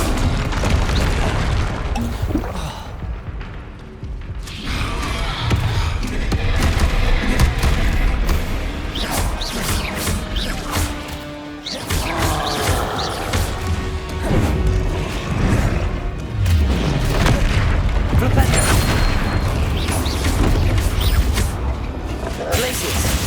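Fire spells burst repeatedly in a Hogwarts Legacy duel on PS5, with loud crashing booms and smashing impacts layered over constant game music and effects, hits landing in quick succession throughout.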